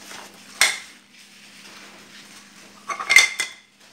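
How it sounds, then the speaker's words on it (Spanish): A utensil whisks pancake batter with grated carrot in a bowl, giving two short bursts of close scraping and clinking against the bowl with a quiet pause between them. "Ahora lo bato. Voy a batir muy bien."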